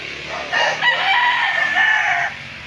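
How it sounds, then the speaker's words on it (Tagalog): A rooster crows once, loud and close, among farm chickens, a single drawn-out call lasting about two seconds over faint background clucking. "Yan dami pang manok dyan."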